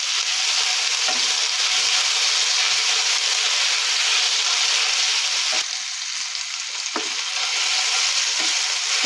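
Ginger garlic paste sizzles steadily in a hot pan, a dense continuous frying hiss with a few faint scrapes, no talking.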